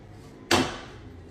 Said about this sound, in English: We should hear a really satisfying click.